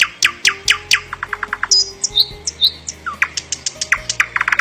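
A nightingale sings a varied, rapid song of sharp whistles, trills and fast repeated notes, loud and near, with brief pauses between phrases.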